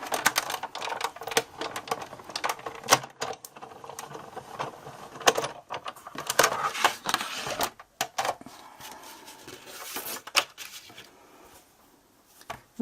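A Big Shot die-cutting machine runs a Thinlits die through for a pop-up birthday card, giving a quiet, irregular run of clicks, clacks and rattling mechanical taps that carries on for the whole stretch, with no talk.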